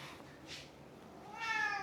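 A domestic cat meows twice, a short muffled call near the middle and a clearer, rising meow toward the end, close by against quiet room noise.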